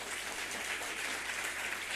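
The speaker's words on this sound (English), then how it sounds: "a round of applause for him" An audience at a breakout session gives a round of applause, a dense, steady wash of clapping with no break in it.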